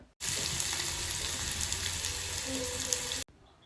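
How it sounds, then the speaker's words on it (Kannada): Onions, garlic and curry leaves fry in oil over a medium flame, giving a dense, close, continuous sizzle for about three seconds between brief silences. "ಈರುಳ್ಳಿ ಸ್ವಲ್ಪ ಕಲರ್ ಚೇಂಜ್ ಆಗಬೇಕು ಅಲ್ಲಿವರೆಗೂ ಮೀಡಿಯಮ್ ಫ್ಲೇಮಲ್ಲೇ ಚೆನ್ನಾಗಿ ಫ್ರೈ ಮಾಡ್ಕೊಬೇಕಾಗತ್ತೆ"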